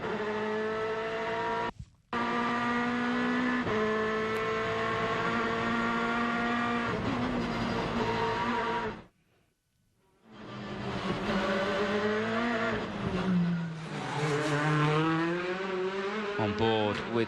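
Onboard a WTCC touring race car during qualifying at Macau: a loud, close engine screams through rising and falling gear changes, cutting out twice for brief gaps before revving hard again.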